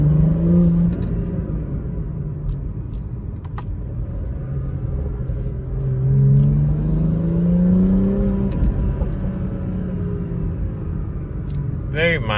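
A BMW B58 turbocharged engine fitted with a Paradigm Engineering turbo inlet drives along at moderate load, a steady low rumble with rising and falling engine tones under a faint voice.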